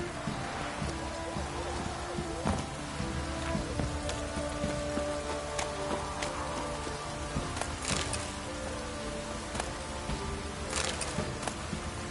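Rain falls steadily in a PS4 video game, a continuous dense patter with occasional sharper drops and knocks over a steady background, heard throughout without pause.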